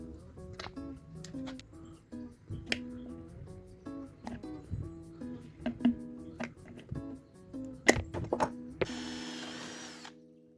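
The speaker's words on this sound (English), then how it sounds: "I also drilled and tapped a hole in the end cap." A handheld drill biting into an end cap in short separate bursts, each a sharp whine that stops and restarts, ending in a longer grinding stretch; fairly close and moderately loud, with no talk.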